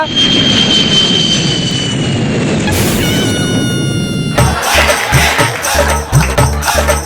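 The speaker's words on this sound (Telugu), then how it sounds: "పైనుంచి ఫ్లైట్ వెళ్తుందిగా" A jet airplane roars overhead, its broad engine noise swelling and filling the air, with low rumbling and clattering building toward the end.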